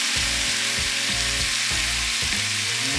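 Oxtails sear in a hot pan, giving a loud, dense sizzle that crackles continuously and evenly throughout, with no talking over it.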